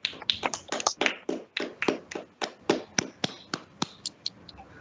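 Scattered claps and taps from online meeting participants sound over unmuted microphones, a close, uneven run of sharp hits that slows and thins out toward the end.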